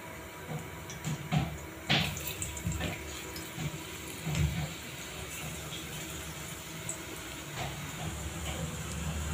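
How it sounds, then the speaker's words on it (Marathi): Boondi batter drops into hot oil for motichoor ladoo, a close, continuous sizzle and bubbling with scattered crackling bursts as drops hit the oil, no voices. "हे बघा, इथे अशा पद्धतीने आपल्याला बुंदी तळून घ्यायची आहे।"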